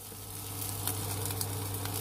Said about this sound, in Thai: ผัดให้ข้าวแหนมและกระเทียมให้เข้ากันนิดนึงค่ะ